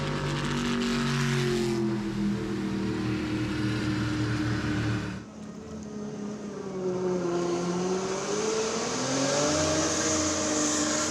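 A powerful racing ski boat engine roars at a distance during a waterski race, its pitch rising and falling as it revs, with a brief dip midway before the drone returns.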